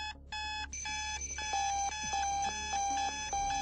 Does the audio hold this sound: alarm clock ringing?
yes